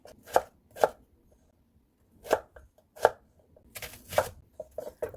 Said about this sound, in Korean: 당근은 좀 잘게 썰어 줄게요